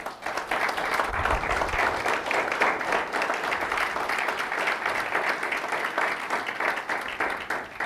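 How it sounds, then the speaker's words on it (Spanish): A congregation at a church sermon breaks into applause, a loud, continuous wash of many clapping hands that holds steady throughout, with a brief low thump early on. "Yo le daría un aplauso."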